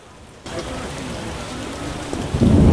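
Heavy rain starts suddenly and pours steadily in the video game The Witcher, a dense hiss that grows louder toward the end with a low rumble.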